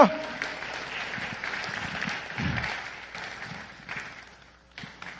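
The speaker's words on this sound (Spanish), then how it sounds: "Póngase de pie, aplauda el nombre de Cristo." A church congregation rises and applauds, a spread of clapping that swells and then tapers off over several seconds, with shuffling and a few voices mixed in, heard at a moderate distance.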